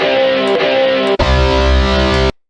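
A crunchy, distorted guitar sample from a paid sample pack plays loud and sustained, cutting out briefly near the midpoint before resuming and then stopping abruptly.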